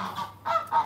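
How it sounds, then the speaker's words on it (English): Geese honking at an outdoor restaurant garden in Bujumbura, Burundi, three quick close honks in under a second, loud and clear. "Geese."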